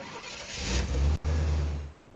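Synthetic car engine starting from a GarageBand sound library: a low rumbling start that builds and revs, cuts out for a split second, then resumes as a steady loud idle before fading.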